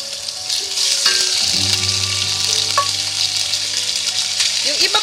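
Chicken drumsticks hit hot oil in a pan with a steady, loud hiss and crackle that runs throughout, with a few light clinks of a utensil and background hum.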